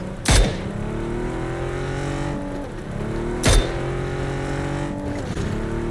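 A car driven in a video game, its engine revving steadily through stepped gear shifts, broken twice by sharp loud crashes or bumps, with no talk in the clip.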